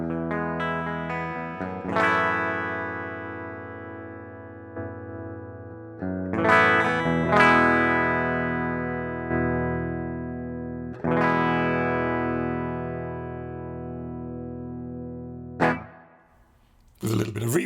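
Clean electric guitar through a ToneX ONE pedal running a Fender Mini Deluxe clean amp model, sustained chords and ringing notes strummed in several bursts, played alone with long decays.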